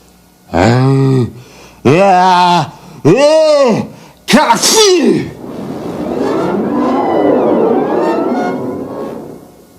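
A voice imitates a big sneeze, three drawn-out rising breaths building to a loud burst, followed by a long rushing whoosh.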